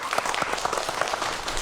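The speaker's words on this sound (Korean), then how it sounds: "박수 부탁드릴게요" A lecture audience claps briefly and evenly at moderate volume as the final speaker is welcomed.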